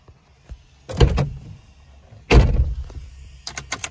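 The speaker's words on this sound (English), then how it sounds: "I opened the door so it can reset everything." A Jeep car door is worked at home during key-fob programming. There are two loud mechanical clunks about a second apart, then lighter clicks and rattles near the end, close up and with no one talking.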